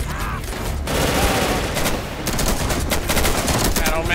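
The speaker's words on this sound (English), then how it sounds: "that machine gun is insane" Sustained machine gun fire rattles through a WW3 zombies video game mod, dense continuous bursts filling the scene at close, loud range with barely a pause.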